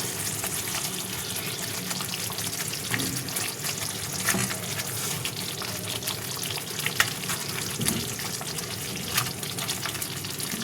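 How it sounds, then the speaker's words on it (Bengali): Prawns sizzle in hot oil with masala for a chingri malai curry, a steady, close, crackling frying hiss lasting throughout with occasional small pops and splutters, no voices. "তেলটা ছেড়ে এসছে একদমই হয়ে গেছে কষানো এবারে মাছগুলো এক এক করে দিয়ে দেবো"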